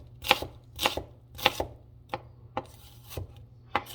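A knife chops food against a cutting board in a homestead kitchen, a series of crisp, separate blade strikes at an unhurried and slightly uneven pace, close and clear, with a steady low hum behind.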